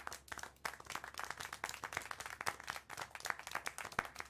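Several people clap in the video game Syberia The World Before, a quick irregular patter of hand claps, fairly faint and a little distant, with no voices over it.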